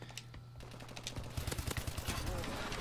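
An AK-12 rifle fires in a video game, a fast, rattling stream of rapid shots that builds into a dense burst over the second half, fairly quiet overall.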